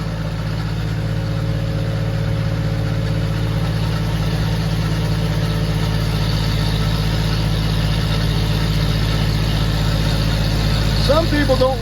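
A tractor engine runs steadily on a dyno, a loud, constant low chugging drone that holds evenly throughout, with no voices over it.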